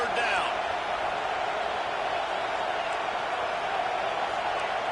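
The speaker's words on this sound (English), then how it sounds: "Decibels rising as the crowd gets behind this defense on third down." A college football stadium crowd at Tennessee vs Arkansas roars loudly and steadily on a third down, a dense sustained wash of noise with a commentator talking over it.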